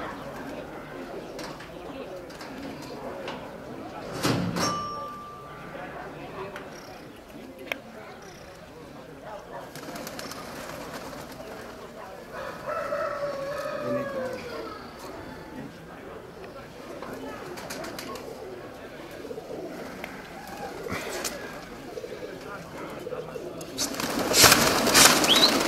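Show pigeons at a fancy pigeon club event in Petra, Greece coo softly and flap their wings, with a burst of wingbeats near the end, while people talk nearby.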